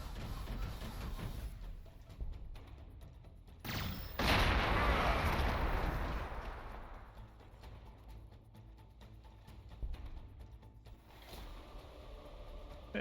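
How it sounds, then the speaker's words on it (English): T'au broadsides firing a long-range bombardment in Warhammer 40,000: Gladius, a loud burst of blasts swelling into a rumbling barrage that fades under quieter game sounds. "We'll go for a long-range bombardment."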